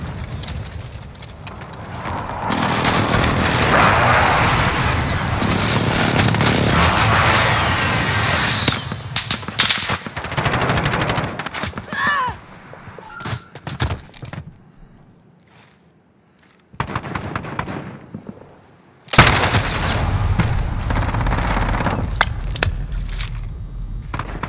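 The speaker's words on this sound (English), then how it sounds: "Friendly precision airstrike on the way." Explosions from a precision airstrike in Call of Duty: Modern Warfare on a Talsik Backlot map, loud booming blasts and crackling rumble in bursts, with a quiet lull in the middle before another heavy impact and continued roar.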